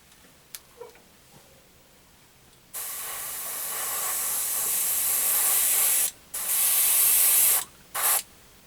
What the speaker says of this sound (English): Frank, shut up and spray the frickin' body.